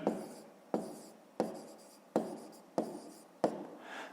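A pen scratches numbers onto paper in about six quick, evenly spaced strokes, each starting sharply and fading, close and fairly quiet.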